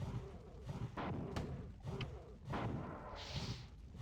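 Grenade blasts go off in the classic first-person shooter Marathon 2, several deep booming thuds spaced about a second apart over a low rumbling background, moderately loud and with no voices.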